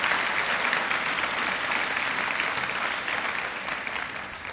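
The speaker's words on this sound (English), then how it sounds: "Round of applause, please." Audience at a high school graduation ceremony applauding loudly and continuously, a dense wash of clapping that holds steady and tapers slightly toward the end.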